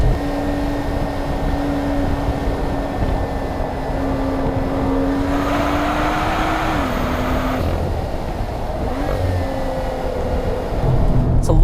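A 2016 BMW M2 with a manual gearbox runs on a hilly race track, its engine droning steadily under load with a brief lift around a corner before pulling again, heard from inside at moderate volume.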